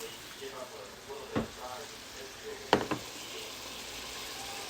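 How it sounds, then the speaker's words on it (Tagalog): Onion, tomato and garlic sautéing in a pan give a steady soft sizzle, broken by two sharp knocks of a utensil against the pan. "Ginisa ko na yung sibuyas. At kamatis. Bawang."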